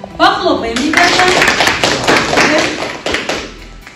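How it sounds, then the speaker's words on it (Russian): Children in a classroom clap together in a short burst of dense, close applause that swells and fades over a few seconds, with a brief voice at the very start. "Похлопаем, ребята."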